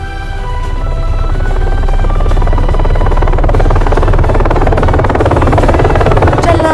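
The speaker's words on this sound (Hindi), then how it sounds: "चलना जॉर्डन, हेलीकॉप्टर चला जाएगा।" A helicopter in a 3D animated zombie film, a loud, steady rotor roar building in and holding throughout with dense low thumping.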